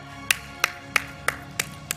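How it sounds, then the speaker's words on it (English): A single person clapping at a health conference in Dubai, six sharp, evenly spaced claps about a third of a second apart over a low room hum, with no crowd joining in. "Give him a round of applause."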